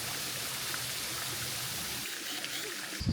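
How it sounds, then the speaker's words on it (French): A small waterfall in the park of Villecroze pours as a steady, full rushing of water that fills the whole stretch, close by and unbroken, with a brief knock near the end. "Ah, c'est ça la cascade?"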